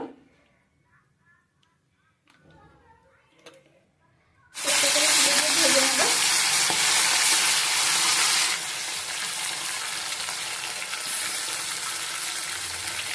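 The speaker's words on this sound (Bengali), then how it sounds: "তেল দিয়ে দিচ্ছি মাছ ভেজে নেওয়ার জন্য।" Pieces of fish dropped into hot oil in a pan, a loud sustained sizzle that bursts in suddenly after a few seconds of quiet kitchen sounds and then settles into a steady hiss.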